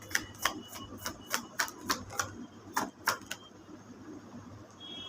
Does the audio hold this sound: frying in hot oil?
no